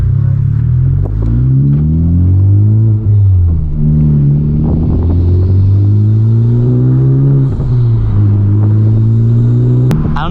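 Honda Civic Type R FK8 under full-throttle acceleration, loud in-cabin engine rumble climbing through repeated rising pitch sweeps with brief dips at gear changes, continuous and close with no talking.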